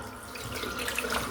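Water from a tap runs steadily to rinse shaving soap out of a shaving brush, a brief close hiss and splash with no talking.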